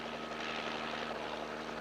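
A helicopter flying overhead in a police chopper setting, with a loud, steady rotor and engine drone filling the short span without pause and no voices.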